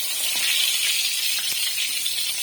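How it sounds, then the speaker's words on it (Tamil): Stuffed brinjals deep-frying in hot oil give a steady, close, bright hiss that holds evenly throughout with a few small crackles, and no voices are heard. "இப்போ எண்ணெயில் போட்டு பொரிச்சு எடுக்க வேண்டியது தான்"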